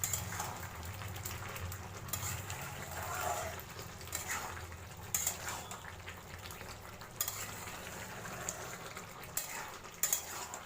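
Stirring a vegetarian bitter gourd curry in a pan, a soft sizzle and bubbling under repeated scrapes and light clinks of a spoon against the pan.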